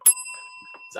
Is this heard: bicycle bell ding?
yes